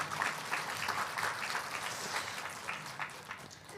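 Applause from a church congregation at a Sunday worship service, a steady dense clapping that fills the whole stretch without letting up.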